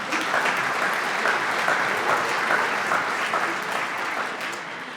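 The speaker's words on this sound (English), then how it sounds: "Give yourselves a round of applause." Sustained audience applause at a chamber music competition awards ceremony, an even wash of many hands clapping in a hall, moderately loud and easing slightly toward the end.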